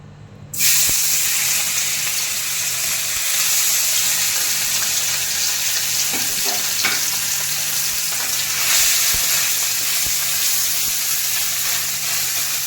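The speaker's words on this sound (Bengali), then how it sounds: "তো আমার তেলটা গরম হয়ে গিয়েছে। তো এখন মাছটা আস্তে ছাড়বো।" Fish frying in hot oil in a kadai, a sudden loud sizzle that settles into a steady, close, hissing crackle with a few faint clinks, no voices.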